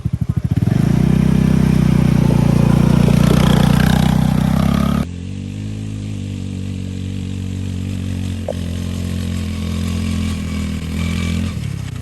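Polaris Ace 150 off-road vehicle engine revving hard while sliding sideways through turns, a loud steady drone that drops to a lower, steadier hum midway, with no talk.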